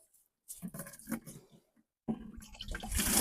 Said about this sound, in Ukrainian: Водичку набираю.